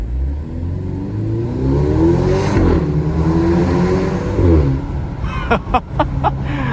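A 2023 Maserati Grecale Modena SUV accelerates through a tunnel, its engine note rising loud and close with echoing reverberation, followed by a few sharp pops and crackles near the end.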